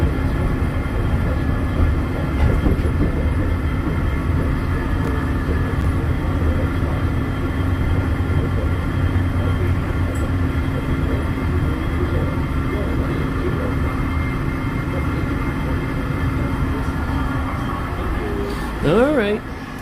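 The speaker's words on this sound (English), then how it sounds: "From the monorail." Walt Disney World monorail riding along its track, a continuous even rumble and hum from inside the car, steady and moderately loud, with people talking throughout.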